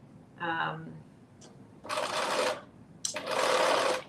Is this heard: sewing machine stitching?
yes